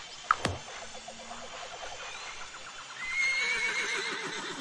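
Horses in the Mystery Case Files video game neigh and whinny in a long, shaky, rising call, after a sharp thud and a short tone, with a faint background hum.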